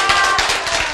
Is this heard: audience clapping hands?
yes